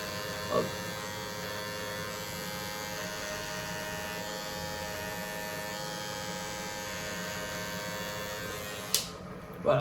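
A close electric razor hums and buzzes continuously while trimming under the nose, then cuts off abruptly near the end.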